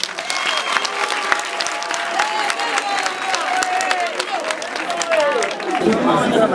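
A crowd at a minister's visit to Makala central prison applauds in sustained, dense clapping, with chatter and voices running through it and a few scattered cheers.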